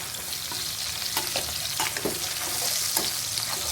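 Shrimp heads fry in hot oil for shrimp fried rice, giving a steady, dense sizzle with scattered crackles and a few utensil scrapes, close and unbroken, with no voices.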